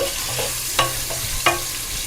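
Sliced onions and split green chillies sizzle in hot oil in a pan, a constant close frying hiss punctuated by two distinct clinks of a spatula stirring, no voices.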